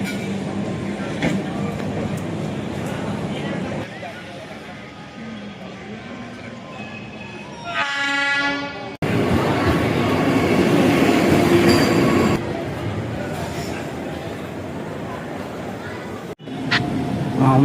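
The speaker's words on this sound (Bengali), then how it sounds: "ব্ল্যাক ডায়মন্ড এক্সপ্রেস, সেই ট্রেন চলে এসছে।" The Black Diamond Express pulls into a station with a heavy rumble, rolling wheel clatter and a sharp metallic brake squeal, while people talk nearby.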